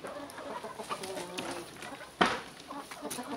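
A 3.5-month-old Hint rooster crows in short, uneven calls with clucking bursts and a sharp sound near the middle. It is fairly close and moderately loud, and a voice speaks quietly beneath it.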